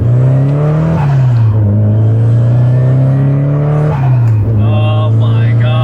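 Nissan S15 four-cylinder turbo car accelerating hard with no blow-off valve, a loud close engine note climbing through gears with brief dips at shifts, high whistles near the end.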